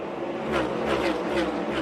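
NASCAR race cars roaring past on an oval track at a 2023 race finish, a steady loud engine wash with several swelling pass-by surges in quick succession.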